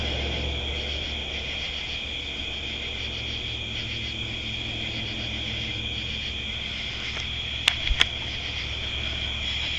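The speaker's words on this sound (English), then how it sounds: "You hear crickets." Crickets chirp steadily at night in a cemetery, a continuous high insect drone with no pauses, joined by a couple of brief sharp clicks near the end.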